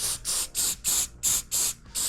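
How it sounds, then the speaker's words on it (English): Seven quick, evenly spaced bursts of hissing spray, close and fairly quiet, each lasting a fraction of a second. "Then I'm going to spray activator onto the cloth."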